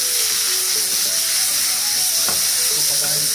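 Tomatoes go into a hot pan with whole chillies and garlic while making a vegetable filling for momos, raising a loud, steady sizzle and hiss that runs throughout with faint stirring clatter.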